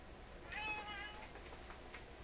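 Elderly tabby cat meowing indoors, one short, faint meow with a rising-falling pitch near the start, followed by quiet room noise.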